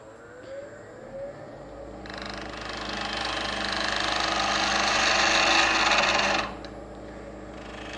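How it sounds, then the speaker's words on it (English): A wooden oil lamp blank spins on a wood lathe, its motor humming steadily as a tool cuts in to reshape it, building to a louder scraping whir for several seconds and then easing back. "I put that oil lamp back in the lathe."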